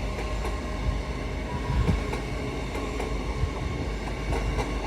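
An LNER train passes through York station on the East Coast Main Line with a loud, steady rumble, faint wheel clatter and a few thumps from the rails, heard up close with no talking.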